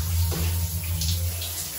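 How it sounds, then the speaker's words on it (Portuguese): A household shower running during hair washing, giving a steady, moderate hiss of falling water that continues without break. "Deixa eu ver aqui o chuveiro. Ele demora pra desligar."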